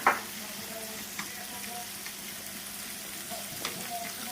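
Steady, even sizzle of pork frying on a Thai tabletop grill (mu kratha), continuous crackle with occasional small pops, close by and moderately loud.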